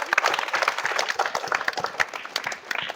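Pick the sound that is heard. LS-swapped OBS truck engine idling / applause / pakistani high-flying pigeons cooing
applause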